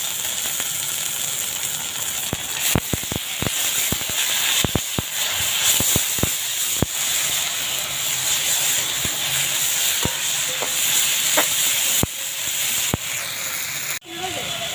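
A ginger, garlic and green chili paste sizzles loudly in hot oil, a steady close hiss broken by scattered pops and clicks.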